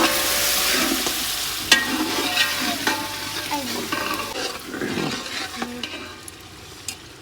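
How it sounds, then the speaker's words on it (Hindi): Korma masala with salt and red chilli powder frying in a pan, a steady close sizzle broken by scraping stirs and a sharp clack near the middle, with no talking. "मसाले की भुनाई कर ली है"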